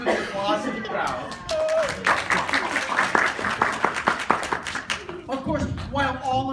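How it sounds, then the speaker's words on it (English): Audience applause at a storytelling performance, a burst of clapping that builds to a dense patter, then fades as voices and laughter come back in near the end. "and followed to the applause of the crowd."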